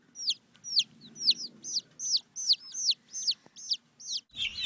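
A hen clucks about ten times in a steady, evenly spaced series of short, close calls, ending with a brief louder squawk; quiet background otherwise, no talking.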